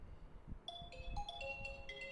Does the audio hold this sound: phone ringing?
yes